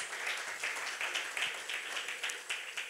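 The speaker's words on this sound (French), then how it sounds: "We give God a round of applause" A church congregation applauds, a dense continuous patter of many hands clapping at moderate distance for a few seconds.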